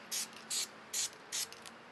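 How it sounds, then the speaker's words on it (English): An almost empty aerosol spray can hisses onto a fabric banner in four short, even bursts, each about a fifth of a second long, with quiet pauses between them, heard close up and alone. "This time I'm spraying a little bit closer."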